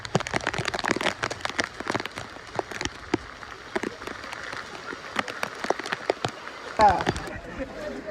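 Rain falls in an irregular, crackling patter of drops striking a surface nearby, with faint voices in the background.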